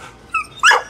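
A young dog, an eight-month-old female, gives two short close barks, a softer yip followed by a louder sharper bark, with no talking.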